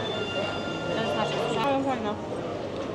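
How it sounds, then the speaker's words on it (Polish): A miniature conveyor train at a sushi restaurant carries food to the table, giving a continuous rattling rumble with faint wheel squeals amid busy restaurant chatter. "i teraz pociąg nam to przywiezie"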